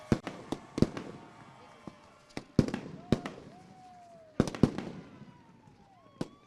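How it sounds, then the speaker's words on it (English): Loud, sharp firework bangs and crackles burst irregularly over victory lane at a sprint car race at Lernerville Speedway, with whistling rockets rising between blasts and a crowd murmuring in the background. "The fireworks showering victory lane"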